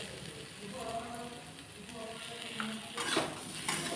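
Spices get stirred in a cooking pan with a spoon scraping and clinking against the metal over a soft sizzle, growing a bit louder and busier toward the end.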